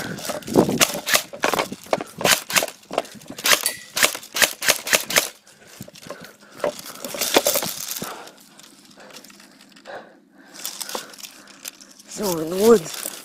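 Airsoft gun fired in semi-auto out in the woods: a quick run of sharp, separate snapping shots, then a few scattered pops further apart, with a brief whirring noise near the end.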